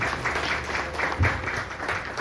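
An audience at a Marathi community Ashadi Ekadashi event applauds in a short, fairly soft burst of clapping that rises and falls.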